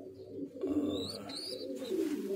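Grizzle pigeons at a breeding nest with eggs coo in a soft low repeated rumble, close by, with faint higher chirps behind and no talking.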